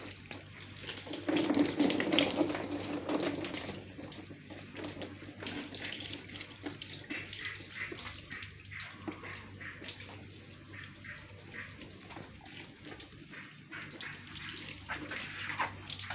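Water spraying from a hose while a car is washed, a steady hissing rush that swells early on and then carries on more evenly, close by, with faint talk in the background.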